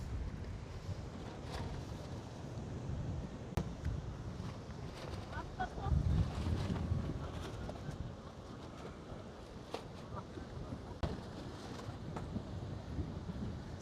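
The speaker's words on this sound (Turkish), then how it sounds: "Çok acayip bir şekilde bir rüzgar var." Strong wind blasting across an Atlantic Ocean beach at Essaouira, a continuous rumbling roar buffeting the microphone with gusts swelling and easing over faint surf and distant voices.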